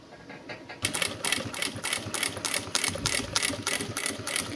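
A sewing machine stitches the final seam on a fabric car trash bag, starting abruptly after a quiet moment and running as a steady, close, rapid mechanical chatter with no talking.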